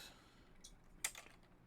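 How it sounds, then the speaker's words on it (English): A plastic miniature figure drops onto a computer keyboard with a single sharp, brief clatter, quiet and close, preceded by a fainter soft tap in an otherwise hushed room. "One guy fell on the keyboard."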